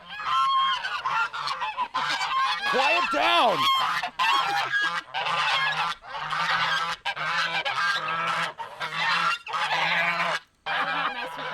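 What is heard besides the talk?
geese honking in the yard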